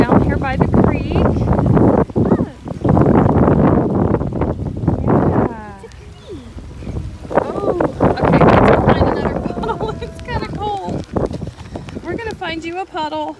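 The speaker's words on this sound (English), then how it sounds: "Sorry if it's windy. It's kind of windy." Heavy wind buffets the microphone in loud rumbling gusts beside a creek, easing midway, while voices and children's chatter come through.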